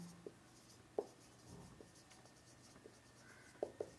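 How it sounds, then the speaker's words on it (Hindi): A pen writing a short word by hand during a biology lesson, faint scratchy strokes with a few sharp taps against a quiet room background. "जीएम लिख रहा हूँ"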